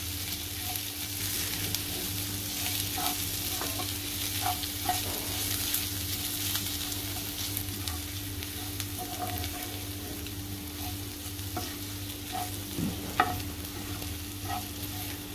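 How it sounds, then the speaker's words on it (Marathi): Ginger and garlic sautéing in hot oil, giving a continuous soft sizzle with scattered light stirring clicks and a low steady hum underneath, moderately quiet and without speech. "कच्चटपणा आपला जात तोपर्यंत आपण चांगलं परतूया आलं लसूणचा"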